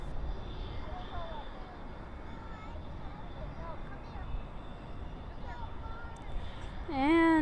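An airliner takes off at night from Dallas/Fort Worth airport, its engines giving a steady broad roar while the landing gear retracts; someone talks over the noise, and a brief rising tone comes in at the end.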